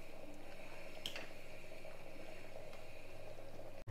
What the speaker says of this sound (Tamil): நல்லா கொதித்து எண்ணெய் பிரிஞ்சு வந்ததுக்கப்புறம் நம்ம ஆஃப் பண்ணிடலாம்.